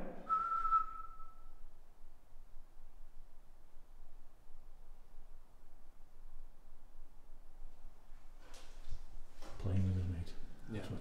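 A single short, clear whistled tone inside a care home in the UK at the start, then a long quiet stretch with faint background hiss before voices come in near the end.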